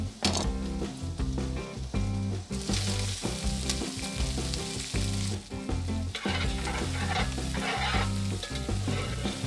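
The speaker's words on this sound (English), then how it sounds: "start browning that sausage so you can start getting a grease made up" Pork sausage browns in a pan for Cajun rice and gravy, a steady loud sizzle and crackle of frying fat under repeated scraping and stirring strokes.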